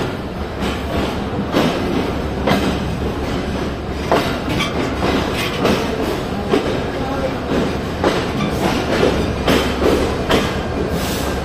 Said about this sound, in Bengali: তো আন্তনগর তিতুমির এক্সপ্রেস সঠিক সময়ে 6:21 রাজশাহী আউট।